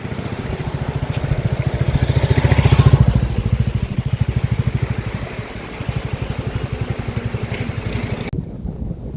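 A motorcycle engine runs with a steady, rapid pulsing beat, swelling louder for a moment before settling back, then cutting off near the end.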